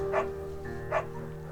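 A beagle in the video game Firewatch gives two short, evenly spaced barks over a steady tonal background hum, close and fairly clear.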